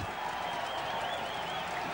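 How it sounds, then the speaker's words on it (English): Rugby league crowd at a cup tie cheering and applauding a 9–8 win, a dense roar of clapping and voices sustained across the whole stretch. "The crowd are going frantic."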